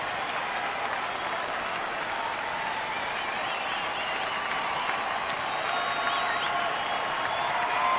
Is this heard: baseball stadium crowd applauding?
yes